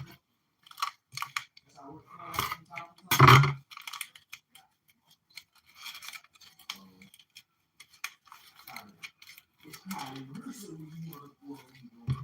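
Yeast packets being torn and cut open in a home kitchen while prepping doughnut dough, a series of short crinkling rips and snips with pauses between them, close up, while a person talks intermittently.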